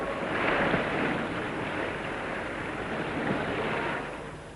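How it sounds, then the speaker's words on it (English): Waste water pours steadily out the back of a tin dredge in Malaysia, a broad continuous rushing wash of moderate loudness, swelling slightly then easing at the end. "When the tin's been extracted, the waste pours out at the back."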